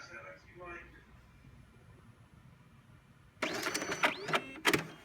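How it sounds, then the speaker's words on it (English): Card printer printing a pass starts up after a stretch of faint voices, giving a sudden mechanical whir with rising electronic tones and sharp clicks, close and moderately loud. "by clicking Print, it'll send it to our special card printer."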